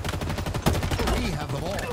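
Rapid automatic gunfire in Halo during a Warthog vehicle match, with fast rhythmic shots running throughout under a game voice callout.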